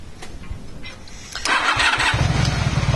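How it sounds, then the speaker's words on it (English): Motorcycle engine cranking, then catching and starting up, settling into a close, steady idle rumble. "and then we're going to start the bike up."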